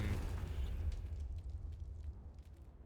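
Confringo fire spell explosion in the video game Hogwarts Legacy, a dense low boom that swells at the start and rumbles out over a few seconds, fairly faint, with crackling debris fading.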